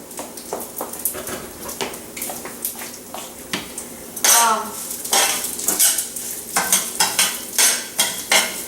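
Quinoa toasting in a generous amount of oil in a pan, a steady sizzle with frequent scraping and stirring of a utensil against the pan, close and fairly loud.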